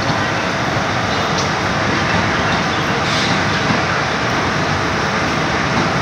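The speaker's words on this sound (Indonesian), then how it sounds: "tujuan Soekarno-Hatta ya, ini kereta bandara nih" Airport rail link train bound for Soekarno-Hatta passing near Manggarai station, a loud continuous broadband roar of wheels and motion close by, steady for the whole stretch.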